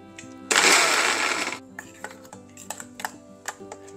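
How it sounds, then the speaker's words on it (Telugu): Mixer grinder pulsing cucumber pieces with green chilies and garlic: one loud roaring burst of about a second, followed by scattered light clicks and knocks from the jar. "ఇందులో కొంచెం దోసకాయ ముక్కలు వేసేసి కాస్త మిక్సీ పట్టేసామనుకోండి, చక్కగా అవుతాయి"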